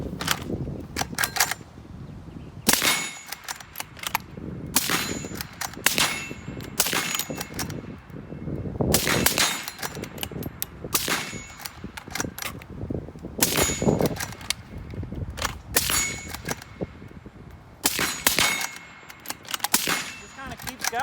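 Ruger American rifle in 7.62x39 firing with steel surplus magazines, giving a long run of loud, sharp shots at uneven intervals over about twenty seconds, close by with no talking between them.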